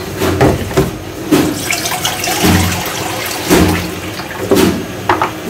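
Water poured steadily into a pressure cooker holding spices, a close, continuous splashing gush with uneven surges and no talking.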